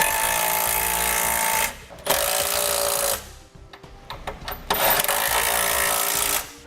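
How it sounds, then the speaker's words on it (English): A power tool tightens trailer hitch bolts under a 2017 Honda Odyssey, loud bursts of rattling, buzzing whir separated by short pauses and a few clicks of hardware. "Use our nut on the carriage bolt. Tighten our bolts down now."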